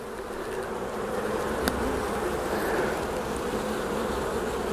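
Honeybees drone in a dense, steady buzz during a hive inspection in the middle of a nectar flow, close and continuous, with a faint tap from a hive tool partway through.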